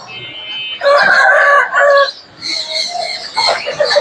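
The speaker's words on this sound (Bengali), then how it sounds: "মোরগ আছে দুইটা মুরগি তিনটা" Roosters and hens at a Mirpur-1 chicken market in Dhaka crow and cluck loudly and close by, with a long crow followed by overlapping clucks and calls.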